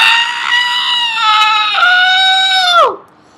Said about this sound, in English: Applejack talked through the screaming of the party mare.